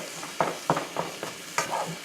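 Ground meat for sloppy joes sizzles quietly in a pan while a utensil scrapes and stirs it in several short, uneven strokes, nearby and without talking.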